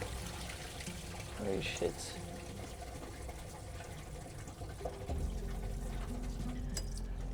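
Water pours and splashes aboard a sailboat as engine coolant water escapes, a wet running flow beneath startled talk, with a steadier low rush setting in toward the end.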